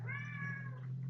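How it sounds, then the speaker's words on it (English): A cat gives a single drawn-out meow in the background, moderately faint and alone over a low steady hum. "I'm not sure how annoying this cat in the background is going to be."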